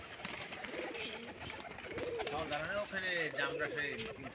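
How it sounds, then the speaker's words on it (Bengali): Giribaj pigeons at a Rajshahi loft, flying off after release, with coos and fluttering mixed under steady nearby talk; bird sounds stay moderate and continuous throughout. "কবুতর উড়ে যাচ্ছে"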